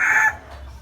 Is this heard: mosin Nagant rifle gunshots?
no